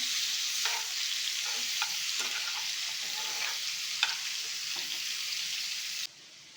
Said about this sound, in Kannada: ಒಂದು ಐದು ನಿಮಿಷ ಫ್ರೈ ಮಾಡ್ಕೊಳ್ಳೋಣ